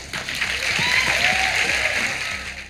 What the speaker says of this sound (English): those of you who are clapping and screaming, listen to me